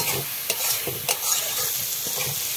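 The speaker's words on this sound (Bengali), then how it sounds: "এভাবে দিয়ে ভালো করে কষিয়ে নিলাম বন্ধুরা" Potatoes frying with dried chili powder and spices in a pan, a steady close sizzle broken by several scraping stirs of a spatula at irregular intervals.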